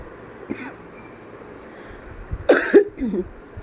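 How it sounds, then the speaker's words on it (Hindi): A woman with a sore throat coughs in a home kitchen while potatoes cook in hot oil, giving one short burst near the middle followed by a couple of quieter rough coughs over faint background hiss. "आप सब देख सकते हैं, जैसे कि मुझे खांसी भी हो रही है"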